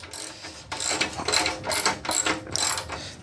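A ratchet wrench clicks rapidly in several bursts while loosening 7/16 bolts on an 8 hp Briggs & Stratton generator, close and fairly loud with brief pauses between strokes and no talking.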